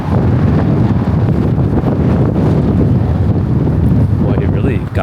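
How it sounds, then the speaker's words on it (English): Strong wind buffets the microphone on an evening walk through Toronto's East End near Donlands Village, a constant heavy low roar with gusty swells throughout. "Got a lot windier than I expected it."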